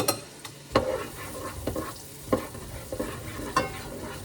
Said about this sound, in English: We're just gonna let those saute for about 5 minutes.